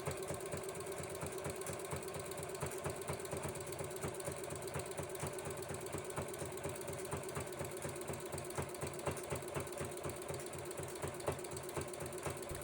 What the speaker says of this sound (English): how it looks as I'm sewing the fabric here together